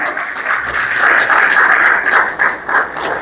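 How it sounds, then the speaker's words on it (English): An audience at a road safety meeting at the Pegasus Hotel gives a warm round of applause to the new global finance minister, steady close clapping lasting a few seconds. "So give her a warm round of applause."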